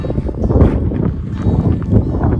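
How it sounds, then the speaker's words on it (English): Steady wind gusts buffet the microphone outdoors at a campsite, a continuous low rumbling roar with no voices. "Pardon the wind again."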